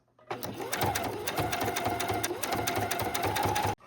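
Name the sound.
sewing machine sewing bias tape onto a needlepoint canvas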